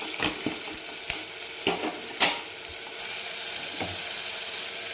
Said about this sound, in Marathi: मिठासोबत छान परतून घेऊ